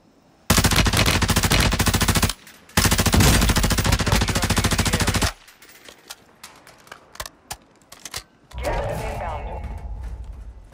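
Warzone 2 gunfire on Vondel, Tempus Razorback bursts included, comes as long, loud, rapid automatic strings with a short gap, then scattered quieter shots and mechanical clicks before a final dense burst.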